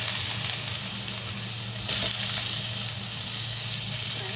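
Meat fries in a pan with an even, moderately loud sizzle throughout the short stretch, no voices present.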